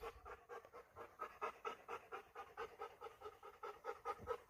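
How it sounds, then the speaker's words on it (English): A dog pants in quick, steady, rhythmic breaths during wait-cue training at a training center, close and fairly quiet, with no talking over it. "So that's my dog Rogue, and we were working on the wait cue."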